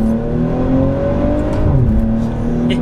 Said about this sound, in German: Und diese Power kommt aus meinem wunderschönen 3 Liter V6 Biturbo.